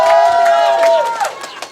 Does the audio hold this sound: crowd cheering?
yes